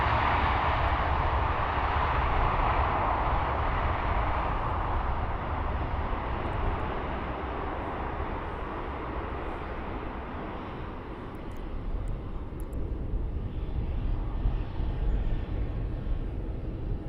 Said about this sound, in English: Reverse thrusts.